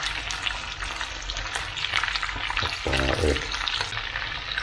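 Steady, loud sizzling of yellow horse mackerel frying in hot oil, with a brief spoken word partway through.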